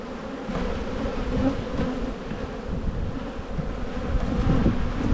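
Honey bees buzz steadily around an open hive during an inspection of brood frames, a dense, close, continuous hum with no voices over it.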